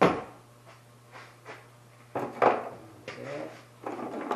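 Enclosure doors on a 2014 Yamaha Viking are lifted off their hinges, giving a few hollow knocks and clunks spaced apart over a steady low hum, close and moderately quiet.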